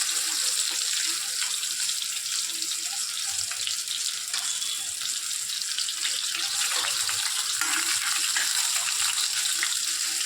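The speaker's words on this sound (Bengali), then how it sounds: "কাঁচা করেই ভাজবো, খুব বেশি লাল করবো না।" Pabda fish frying in hot oil in a kadai, a continuous loud sizzle and crackle that holds steady throughout with no talking.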